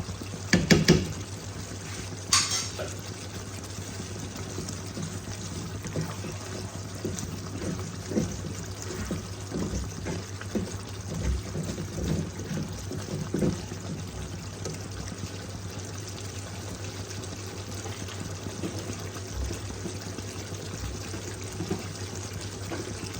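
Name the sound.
pouring ghee into the pan while cooking potoler dorma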